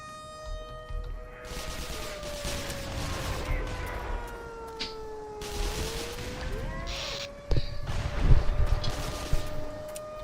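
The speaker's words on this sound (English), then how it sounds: "Why are they shooting me?" Space combat in EVE Online, a video game: bursts of weapon fire crackle over a droning ship hum with pitch-shifting tones, and a heavier volley lands near the end.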